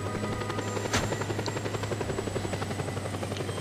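A helicopter in the video game Just Cause whirs with a steady rotor thump and engine drone, close and continuous, with one sharp crack partway through.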